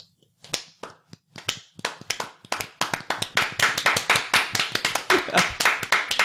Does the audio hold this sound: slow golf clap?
yes